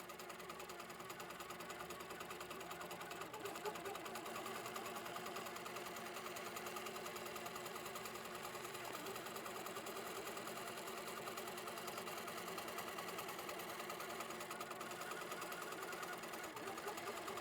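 An HQ Pro-Stitcher quilting machine stitching, a steady fast mechanical whir and rapid needle chatter running continuously at moderate level, with no talk over it.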